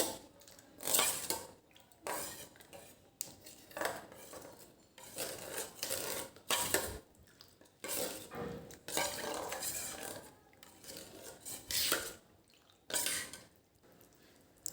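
A spoon stirs about one and a half tablespoons of gram flour into a glass of water, making repeated close clinks and scrapes against the glass. The sounds come in quick bursts with short pauses between them.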